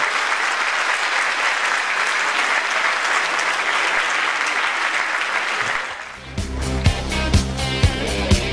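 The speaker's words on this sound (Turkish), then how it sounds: "Kocaman alkışlar bizlerden onlara." An audience gives loud, steady applause after a Hansel and Gretel children's play staged by Cayeli Music School. The clapping cuts off after about six seconds and gives way to music.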